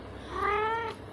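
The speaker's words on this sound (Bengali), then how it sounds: "ম্যাও ম্যাও করলে তো আর হবে না।" One young kitten gives a single clear, drawn-out meow, close and fairly loud, rising then falling over about half a second against a quiet indoor room.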